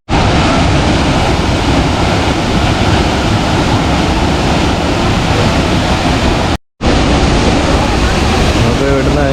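Roaring water of Soochipara waterfall in Wayanad, swollen by rain, as a loud, steady broadband rush that fills the whole clip with a single brief cut, heard from nearby with no voices.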